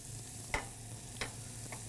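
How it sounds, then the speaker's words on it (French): Onion and red rhubarb sauté in a pan with a constant soft sizzle, broken by a few sharp clicks of a utensil against the pan at regular intervals, close and moderately quiet, without speech. "Donc, on fait sauter."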